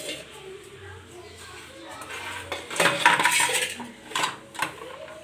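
Steamed thatte kadubu lifted out of a cooking pot, with metal dishes and utensils clinking and clattering in bursts, loudest in the middle, while someone talks over it.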